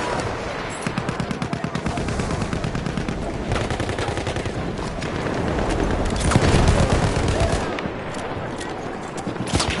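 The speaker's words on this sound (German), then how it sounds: "Maschinengewehr" Rapid, sustained machine gun fire in Battlefield 1 rattles continuously amid the din of battle, with dense rhythmic bursts and occasional heavier booms layered over the chaos.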